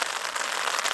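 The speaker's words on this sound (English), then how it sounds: "It's not heavy rain" Light, steady rain in the Bob Marshall Wilderness near the Continental Divide, a dense even patter of drops on surfaces, close and continuous with no talking.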